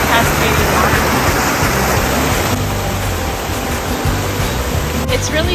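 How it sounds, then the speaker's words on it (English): Small cascading waterfalls by a tiny footbridge near hot springs pour in a steady, loud, close rush of white water that fills the whole clip without a break. "you see these beautiful little cascading waterfalls"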